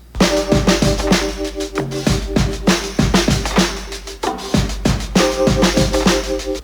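Rhodes electric piano part on a track, sustained chords ringing in repeating phrases over steady drum hits in a full, loud mix.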